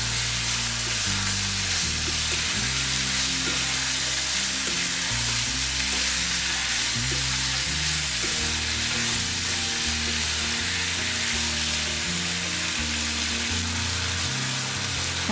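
Chilli chicken stir-fries with chopped capsicum, onion leaves and red and green chillies, a loud, continuous sizzle broken by rhythmic scraping and tossing of a spatula in the pan.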